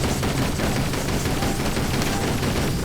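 A 37mm anti-personnel cannon fires in Toy Soldiers, a World War One themed game, as a dense, steady stream of rapid booming shots that runs without a break for about three seconds.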